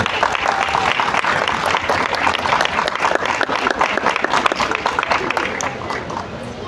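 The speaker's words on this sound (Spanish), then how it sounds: "Muchos aplausos para ellos, por favor." Audience at a book fair ceremony applauding school students, a sustained, fairly loud patter of many hands clapping with some crowd murmur beneath.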